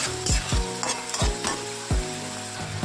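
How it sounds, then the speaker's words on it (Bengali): Potatoes sprinkled with salt fry in hot oil, a steady sizzle broken by about six sharp scraping strokes of a spatula stirring the pan at an uneven rhythm, close and fairly loud, with no voices. "লবণ ছড়িয়ে দিয়ে আলুগুলো ভেজে ভেজে নিচ্ছি"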